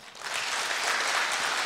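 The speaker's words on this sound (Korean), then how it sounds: "은퇴협동 장로님께서 인사하실 때 큰 박수로 마음을 표해 주시기 바랍니다." A church congregation at a Sunday worship service applauds a retiring elder, giving a dense, steady wash of hand claps that holds at an even loudness without any talk.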